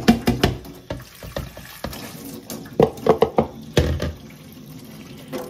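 Running tap water splashes into a sink as something is rinsed, with several louder bursts and clatters of handling over a steady flow, close and fairly loud.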